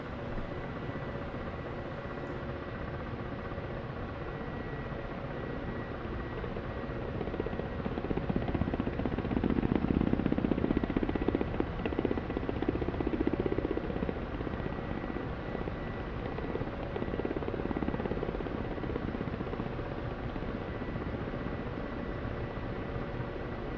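Ka-50 Black Shark helicopter flying in the DCS combat flight simulator, a steady rotor and turbine drone that swells louder in the middle and then settles back to a constant hum.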